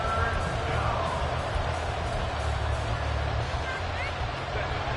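Stadium crowd in the Madden 24 American football video game, a dense, steady roar of many voices filling the space at constant loudness for the whole stretch, with no clear peaks or individual shouts standing out.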